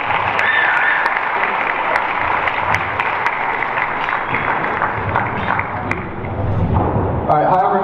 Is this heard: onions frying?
no